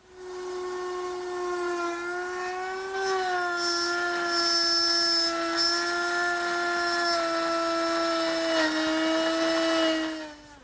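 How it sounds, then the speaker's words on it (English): A woodworking router cutting a mortise in poplar, a steady loud high-pitched motor whine with shifting tone as the bit bites, sustained and close throughout. "Now I'm just going to raise the router up a little bit to cut the mortise deeper."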